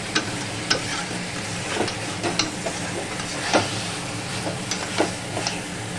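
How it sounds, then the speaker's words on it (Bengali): Meat is stir-fried in a pan under a constant close sizzle, with a spatula scraping and tapping at irregular intervals and no voices. "এবার ভালো করে কষাবো, মন ধরে মাংসটা যত কষাবো তত মাংস সুস্বাদু।"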